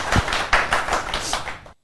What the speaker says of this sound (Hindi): आप लोग जोरदार तालियां बजाकर उनका सम्मान करें